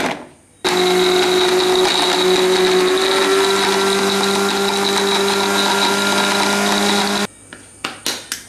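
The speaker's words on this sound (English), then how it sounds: "now we're going to take this thing and chop it up into a blend with the blender." An electric kitchen blender whirs steadily as it chops pork for wonton filling, a loud continuous motor drone lasting several seconds before cutting off, followed by a few short clattering knocks.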